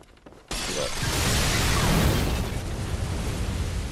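In Bloodborne, exploding urns blow up with a sudden loud burst after a brief quiet start, followed by a sustained roaring, crackling rumble that slowly tails off.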